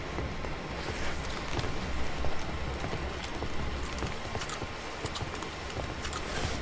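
Simulated rain pours steadily at Delhi in a flight simulator game, a dense, even hiss with clattering drops on the aircraft after landing.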